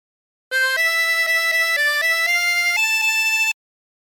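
Harmonica playing a phrase of For He's a Jolly Good Fellow, a run of clean, sustained single notes stepping up and down for about three seconds, alone and fairly loud.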